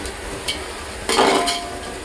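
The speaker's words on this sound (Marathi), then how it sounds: "त्याला पण असं मिक्स करून घेते" Whole spices and onions stirred in oil in a home kitchen pan while cooking mutton biryani: a soft sizzle runs throughout, broken by a few scraping, clinking strokes of a spoon against the pan.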